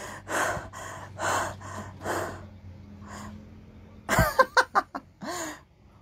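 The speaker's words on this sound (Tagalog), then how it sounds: "Hanggang ngayon, hinihingal pa rin ako." Heavy, out-of-breath panting after walking back home from a stream: several loud ragged breaths close by, followed by a quick burst of sharp gasps and a snort.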